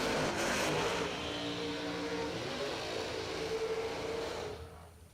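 A loud drag racing car roars past on the strip at a drag racing warm-up event, a harsh, dense engine blast that fills the clip at full volume and fades away at the end.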